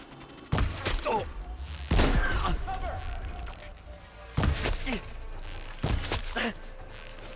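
Gunfire in the video game Horizon Forbidden West, four sharp loud shots spaced apart with ringing tails, with voices heard shouting in between.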